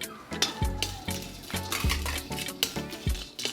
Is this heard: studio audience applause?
no